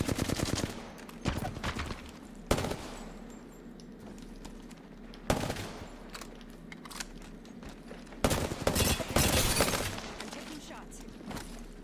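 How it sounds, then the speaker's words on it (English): Video game gunfire comes in several loud bursts of shots spaced across the clip, with steady game ambience and someone talking underneath. "Taking shots."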